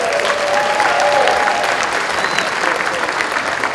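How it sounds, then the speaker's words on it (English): A press club crowd applauds restaurants and wineries with a full, loud, sustained burst of clapping from many hands, a few faint voices and cheers mixed into the rolling applause. "how about a round of applause for all these great restaurants and wineries"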